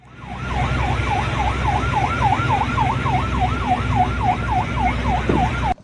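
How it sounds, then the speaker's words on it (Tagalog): A loud ship siren wails continuously at Filipino fishing boats near Scarborough Shoal (Bajo de Masinloc), rising and falling in a quick, steady cycle over a low engine rumble. "binugahan ang mga mangingisda natin ng sirena"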